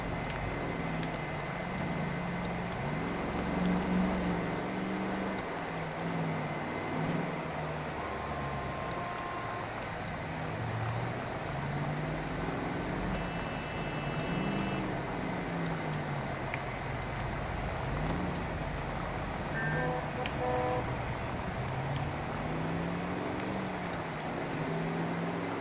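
A Cadillac driving through town in the video game L.A. Noire, a steady low engine hum and road rumble with faint passing traffic sounds, continuous and moderately quiet, no speech.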